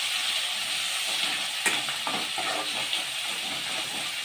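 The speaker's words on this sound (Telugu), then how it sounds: "ఇప్పుడు టమాటా ముక్కలు వేసుకున్నాం." Small tomato pieces sizzling in a pan with prawns for a gongura prawn curry, a steady loud frying hiss with occasional stirring scrapes throughout.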